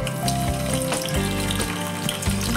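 Onion and green chillies sautéing in a pan for chandan batva bhaji, crackling loudly and continuously close up, with brief sharp spits and pops scattered through the sizzle.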